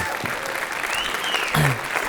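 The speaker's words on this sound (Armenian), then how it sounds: "Ծափարենք մեր հրաշալի հյուրերին" A studio audience applauds the guests with brief, dense, steady clapping from a crowd, with a voice faintly over it.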